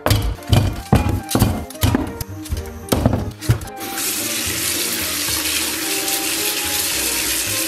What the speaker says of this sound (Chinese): 咱们把这个猪蹄给它洗一下。